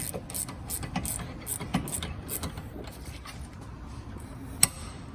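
A hand ratchet with a 15 socket drives a bolt into an Audi B6 rear brake assembly, producing a rapid run of close, fairly quiet clicking strokes that ends in one sharp metallic tick.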